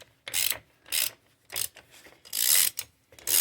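Ratchet wrench tightening a ball joint removal tool on a Polaris Sportsman 500 ATV: several short, close bursts of rapid clicking, separated by brief pauses.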